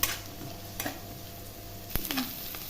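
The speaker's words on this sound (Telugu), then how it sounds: "ఇప్పుడు ఈ ఉల్లిపాయలను కొంచెం వేగనిద్దాం" Onions sizzle softly in hot tempering oil for a Telugu moong dal snack, a steady faint crackle broken by a few spatula scrapes and clinks near the start and around two seconds.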